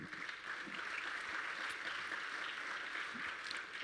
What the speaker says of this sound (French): Je demande à la salle de vous applaudir.